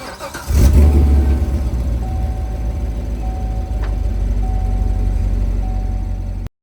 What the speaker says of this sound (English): it is running a Borla exhaust on the back, so it sounds real nice and rumbly when you're going down the road